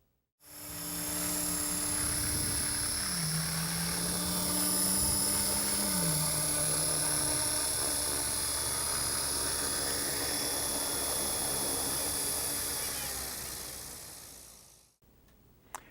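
A radio-controlled helicopter hovers with a steady, close, high-pitched rotor and motor whine, holding constant for about fifteen seconds, with a brief dip in pitch early on, before cutting off abruptly.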